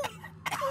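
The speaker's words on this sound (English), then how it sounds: "and why are you all coughing and wheezing?" A cartoon crab or lobster gives a couple of brief, rough coughs and throat-clearing sounds, close and fairly loud.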